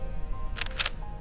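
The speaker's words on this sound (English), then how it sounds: "pressed her shutter again" Camera shutter clicks twice in quick succession, crisp and close, over a faint low background hum.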